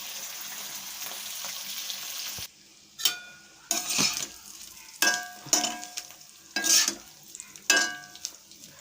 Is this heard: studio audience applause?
no